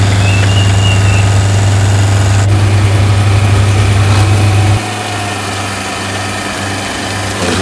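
An RG50 stump grinder, a hydraulically driven four-wheel-drive machine, runs its engine loudly and steadily close by, then drops to a lower, quieter hum about two-thirds of the way through.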